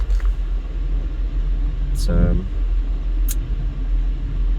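Traffic on Tropicana Avenue in east Las Vegas gives a steady low rumble of passing cars and engines, with a brief louder vehicle pass in the middle while someone speaks a word over it.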